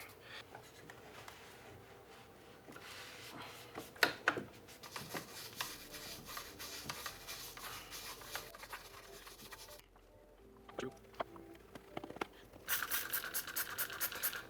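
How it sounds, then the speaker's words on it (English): A toothbrush scrubbing around the inside of an Aillio Bullet coffee roaster, giving soft, close scratching and rubbing strokes in uneven bursts. "Use the toothbrush here to get in and around right here."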